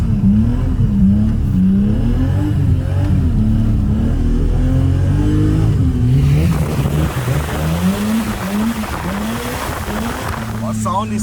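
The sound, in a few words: BMW E34 M5 engine revving while drifting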